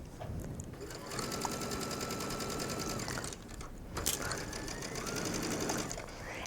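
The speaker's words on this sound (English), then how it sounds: "I will know that I'm capturing all of the mesh as I stitch around the armscye" A sewing machine stitches mesh fabric around an armhole in a steady, continuous mechanical whir at close range, briefly pausing partway through before running again.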